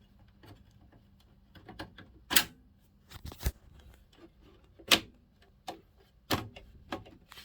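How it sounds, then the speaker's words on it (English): Graphics card being fitted into an HP Z4 G4 workstation: scattered plastic and metal clicks and knocks, a few sharp louder snaps among softer rustling handling, close and without speech. "And in goes our graphics card."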